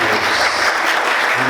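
A church congregation applauds during a night worship service, a dense, steady burst of clapping with faint voices mixed in.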